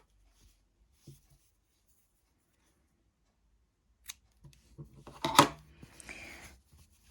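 Scissors snipping off crochet yarn ends on a small drawstring pouch, a few quick close cuts and rustles after several quiet seconds, with no talking.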